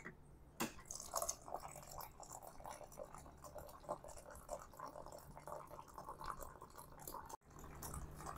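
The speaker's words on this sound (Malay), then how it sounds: "Kemudian kita tambah air panas." Hot water pours into a mug of instant oat chocolate drink, a faint, close trickle and splash with small drips, and a brief knock near the end.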